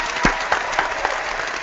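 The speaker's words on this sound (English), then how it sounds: "Giving you a big round of applause over here." Audience applause rings out for a guest on a spring-cleaning and recycling show, a steady patter of clapping with a few sharper bursts, moderately loud and brief.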